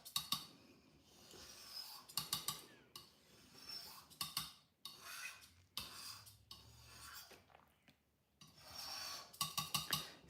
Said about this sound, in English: Scraping it.